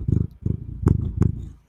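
A fluffy cat purrs up close in a steady, rhythmic rumble, with brief pauses between breaths and a few soft higher clicks, no talk over it.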